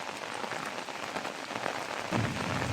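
Heavy rain pours down steadily in a close, dense hiss of drops striking surfaces, continuous and even throughout, with a slight swell near the end and no voices.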